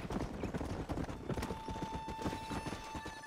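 Steady clip-clop of horse hooves trotting at a quick, even rhythm in the video game Red Dead Redemption, with a brief whinny-like tone mixed in partway through.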